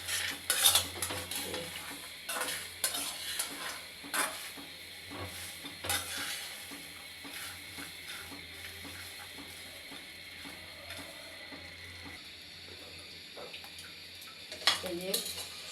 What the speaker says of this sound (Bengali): এই যে সুন্দর করে লাড়াচাড়া দিবেন, জানি পুড়ে না